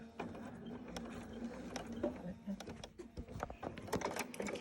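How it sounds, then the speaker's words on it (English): A sewing machine stitches quilt binding along a fold line at a mitered corner, its quick mechanical chatter running in short bursts beneath a person talking nearby. "And I'm just sewing on that fold line."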